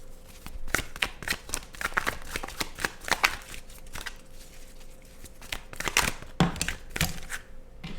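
Tarot cards being shuffled by hand, a close run of crisp riffling and slapping bursts with short pauses between them, no voices.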